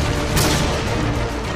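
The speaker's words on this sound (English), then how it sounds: "Friendly predator missile inbound." A predator missile strike explodes in a first-person shooter game, a loud, dense, sustained blast with crackling debris that fills the short moment at close range with no pause.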